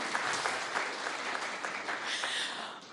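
Studio audience at a televised discussion applauds, a steady wash of clapping throughout, somewhat distant and even.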